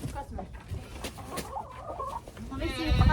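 Chickens cluck close by in a shed, a run of short murmuring calls with rustling and louder activity toward the end, with a voice speaking over them at times.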